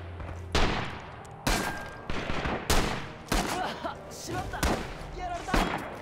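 Gunfire in the World War II shooter Rising Storm on Kwajalein: loud, close shots and bursts crack repeatedly across the span, with game noise between them.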